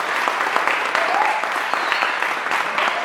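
A live audience bursts into dense, steady applause during a Catholic priest's talk on love and family, the clapping filling the hall evenly for a few seconds with no clear pause.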